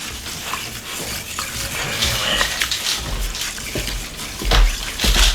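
Liquid sloshes and swirls as salt brine is stirred in a container of warm water, with soft splashes and clinks throughout.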